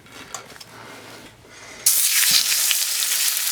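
Pork chops seasoned with salt and pepper drop into vegetable oil in a hot pan and burst into loud, steady sizzling after a quiet start.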